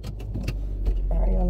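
Someone gets into a car: keys jangle and a door and seat shift nearby, with clicks and rustles under a low engine-like hum, and a voice speaks briefly over it.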